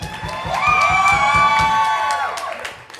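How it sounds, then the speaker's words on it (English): Audience cheering, whooping and clapping after a shred-off between bass and electric guitar, a short loud burst of shouts and rhythmic claps that swells and fades over a few seconds. "I saw you clapping harder for Payam."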